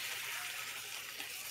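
Honey garlic glaze poured steadily over salmon fillets in a pan, a continuous soft wet flow with a faint gurgle, close and unbroken, with no talk.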